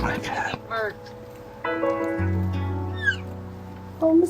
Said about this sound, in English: Oh, listen to that meow.